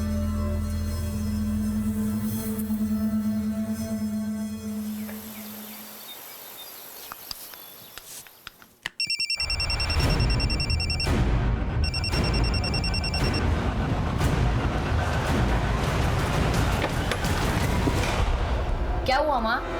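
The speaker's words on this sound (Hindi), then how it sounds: "मुझे यहीं कहीं से मोबाइल की आवाज आई।" A mobile phone rings after a quiet lull, its electronic tone beeping in repeated bursts, loud and close, in a busy indoor scene with voices around it.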